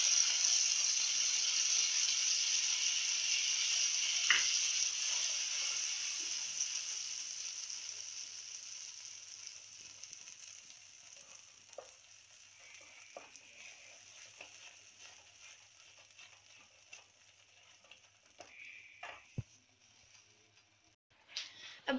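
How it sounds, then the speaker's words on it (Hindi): Washed and ground green peas roasting in a pan for Hare Matar Ki Kheer, a soft, steady sizzle that gradually fades, broken by a few faint scrapes and ticks of stirring. "बस मटर को धो के पीस के फिर ऐसे ही भूनते रहना है।"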